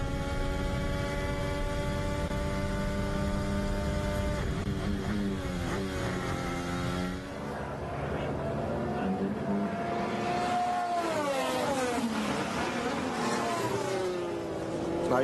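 A Formula 1 car runs during British Grand Prix practice in 2021. Its high engine note whines and shifts in pitch as it passes, loud and sustained, while a commentator talks over it.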